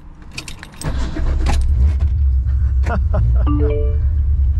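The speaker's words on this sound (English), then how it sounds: "if we wind down the window and I chuck my keys in here" Keys on a 1970s Holden HQ Monaro give a brief jangle and clatter as they are tossed inside through the wound-down window, followed by the car's steady low idle rumble.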